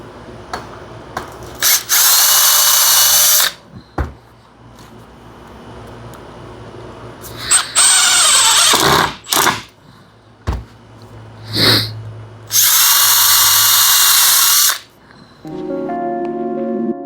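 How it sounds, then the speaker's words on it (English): A power drill drills and countersinks holes in wood pieces for a simple DIY woodworking build, in several loud, separate whirring bursts of one to three seconds with quiet handling noises and clicks between them. "We're going to drill and countersink two holes on each one of these pieces"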